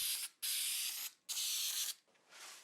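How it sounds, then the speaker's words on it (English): Spray adhesive from an aerosol can hisses onto the backs of 120 grit sandpaper sheets in three loud, close bursts with short gaps, trailing into a softer fourth hiss. "apply spray adhesive to the backs"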